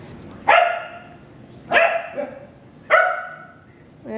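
Dogs wrestling indoors bark in three loud, evenly spaced yaps about a second apart, with softer growly scuffling and panting filling the gaps.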